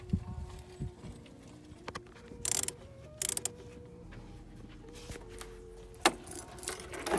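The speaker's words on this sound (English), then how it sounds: "Now we're just gonna take off these two bolts." Bolts being removed from a Hyundai/Kia throttle body, with light metallic clinks and taps of tools and parts, a few sharper jangling bursts, and a low hum in the background.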